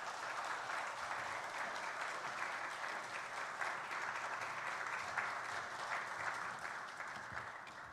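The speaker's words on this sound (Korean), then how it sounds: "우리 하나님께 박수로 영광을 올려드리기를 원합니다." Church congregation applauding during a Sunday worship service as the pastor comes up, a steady, even wash of clapping that sounds fairly distant and soft, with no voices over it.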